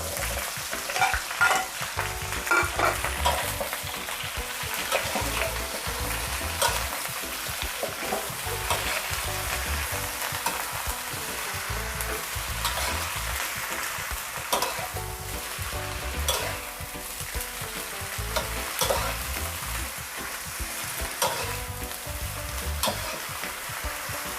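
Shrimp and napa cabbage being stir-fried in a hot pan, a continuous loud sizzle broken by repeated scraping and tossing strokes, close up throughout.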